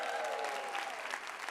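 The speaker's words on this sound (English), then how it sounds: "Can we give him a round of applause?" Brief applause from a Brooklyn State of the Borough audience for a visiting borough president, a dense wash of clapping with a faint voice tone carrying under it.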